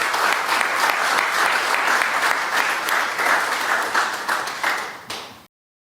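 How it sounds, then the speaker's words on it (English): Reporters at a governor's press conference applaud in a steady, dense wave of clapping that holds for about five seconds, then thins into a few scattered claps and stops abruptly. "but instead they're applauding"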